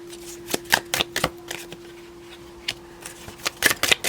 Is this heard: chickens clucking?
no